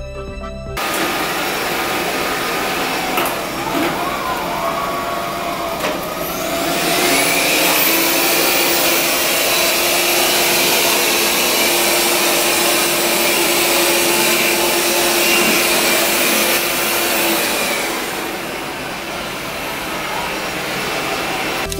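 A Yuwant Edison 2 Plus robot vacuum's suction roars continuously, its whine rising and growing louder midway as carpet boost mode ramps up the motor on carpet, then easing back down.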